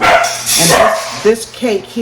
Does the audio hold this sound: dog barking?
yes